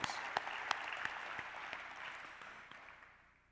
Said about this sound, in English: Let's give these faculty members a round of applause.